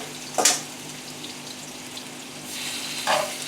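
Chicken breasts seasoned with black garlic pepper fry in a pan, a continuous close sizzle with two brief louder hissing bursts, no talking.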